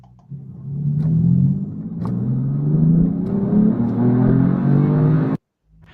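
A car fitted with two North Star V8 engines, one added in the back, revs up in a deep, rising roar, loud and close, for about five seconds before cutting off sharply.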